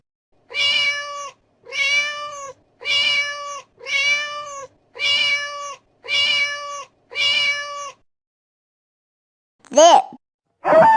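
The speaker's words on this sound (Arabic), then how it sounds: "قطة" A domestic cat gives seven clear, evenly spaced drawn-out meows, then two short higher calls after a pause. The calls are close and isolated, with nothing else in the background, as in a set of animal sounds.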